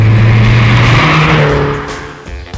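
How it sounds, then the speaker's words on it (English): A Mini Cooper S fitted with a John Cooper Works tuning kit, including new engine management, air filter and exhaust, drives close by with a loud, throaty engine note that shifts pitch as it accelerates, then fades slightly. "This Cooper S is fitted with the latest John Cooper Works tuning kit."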